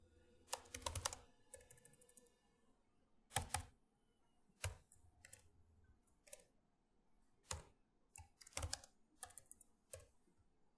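Python code is being typed on a computer keyboard, with scattered clusters of sharp key clicks and a few louder isolated strikes in an irregular rhythm, close and fairly quiet, with no talking.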